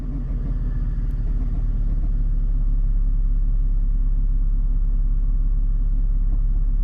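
Manual car engine held at steady revs during throttle-control practice, a continuous low rumble close by with slight rises and dips in pitch, no talk.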